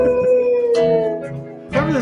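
A person's voice imitating a drawn-out howl, a sustained wavering tone that rises again near the end and is loud and close.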